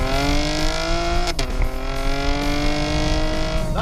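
A 2016 Chevrolet Camaro RS V6 engine drones steadily with a rising harmonic whine as the car accelerates, loud and close, with a brief shift midway and no talking.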